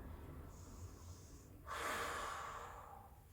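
During an intermediate yoga warrior-pose flow, a single strong breath rushes out close and airy partway through, after a quieter, softer stretch of breathing, with no talking.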